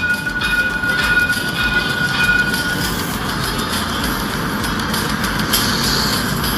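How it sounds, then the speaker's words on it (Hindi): Dubai tram pulling into a station, steady rolling rumble and wheel-on-rail noise with faint high squeals, close and continuous with no talk. "ये दुबई की ट्राम आ रहा है।"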